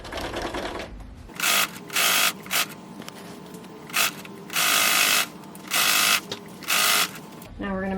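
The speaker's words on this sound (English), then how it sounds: "now we're going to sew down here, but I'm going to push that corner out of the way" A sewing machine stitches a pleated Turkish-corner cushion, running in about six loud bursts of rapid mechanical whirring separated by pauses, with quieter handling sounds in between.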